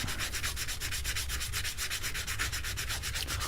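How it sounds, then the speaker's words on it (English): Steady, rapid back-and-forth scratching of 150-grit sandpaper on a wooden guitar part on a workbench, a continuous close rasping rhythm with no voices. "I've got like my little piece of 150 here, and I'm just sanding away on it"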